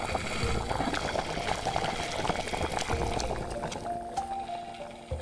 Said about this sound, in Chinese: 等水开以后，我们把鸡放入